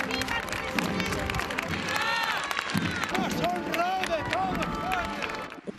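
Crowds of citizens lining Madrid streets applauding the funeral procession of former prime minister Adolfo Suárez, sustained clapping spread wide across the street with whistles, shouts and crowd murmur, moderately distant.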